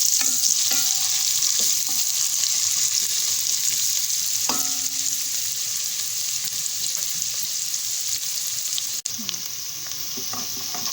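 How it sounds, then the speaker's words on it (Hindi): Onions fry in a pan for a mixed vegetable dish, with a steady, close sizzle running throughout and occasional scrapes and taps from stirring. "प्याज को फ्राई कर लूँगी।"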